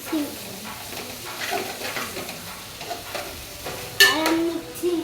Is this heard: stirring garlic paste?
yes